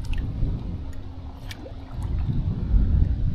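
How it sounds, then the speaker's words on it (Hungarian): Gusty wind buffets the microphone in low, uneven rumbles, swelling stronger toward the end, with faint water sounds from the Danube in the background. "Remélem a szél nem zavar be a hangminőségnek."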